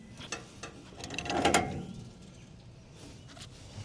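A wrench ratchets on a gas fitting while a heat exchanger is replaced in a York gas package unit, a short burst of clicking close up that peaks mid-clip, then faint scattered clicks with no talk.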